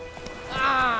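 Horse hooves clip-clopping in the video game Witcher 3, a short burst of close footfalls swelling into a louder tonal rush, with a voice speaking over it.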